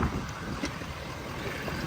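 Strong wind buffets the microphone in a steady, roaring rush with no other sounds.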